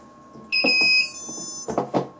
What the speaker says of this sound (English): It's going to beep, and it's going to actually keep beeping because it thinks its signal's lost because it's not connected to the transmitter.